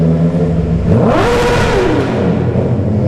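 A Harley-Davidson motorcycle engine revs loud and close, rising in pitch and then sliding back down in one sustained surge of throttle.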